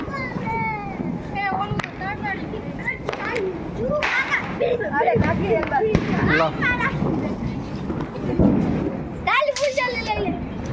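Diwali firecrackers bursting at night outside a village family home, sharp cracks and pops scattered through the clip amid a busy mix of children's voices and family chatter.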